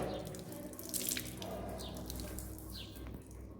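Tap water runs steadily during an ablution washing demonstration in a mosque, a continuous close splashing and dripping stream with no talk over it.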